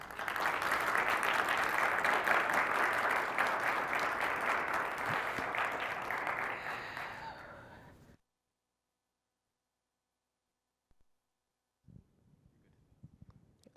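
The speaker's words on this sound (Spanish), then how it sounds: "ya le dieron su gran aplauso a Marlene" A conference audience gives a talk's speaker a long round of dense applause that fades out after about eight seconds, followed by near silence with a few faint stray knocks.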